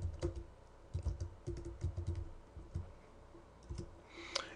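Rapid keystrokes clatter on a computer keyboard as a schedule name is typed, bursts of close clicking with short pauses, ending in a firmer key press.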